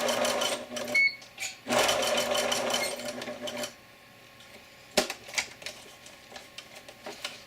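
A sewing machine zigzag-stitches sleep shorts in rapid mechanical bursts with a steady chatter, pausing briefly between runs, followed by quieter clicks and handling noises.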